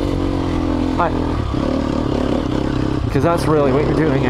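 A 2020 Sherco 300 SEF Factory motorcycle engine idles with the throttle cracked open slightly, a steady close putter with a couple of quick rising revs, while someone talks over it.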